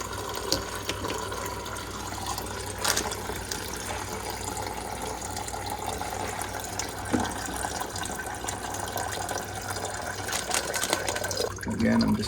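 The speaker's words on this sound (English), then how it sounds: "Let it drain out completely." Water drains out of the plug hole of an Igloo ICEB26HNAQ countertop ice machine into a bucket, producing a steady, close trickle and splash that runs on without pause, with a few handling knocks near the end.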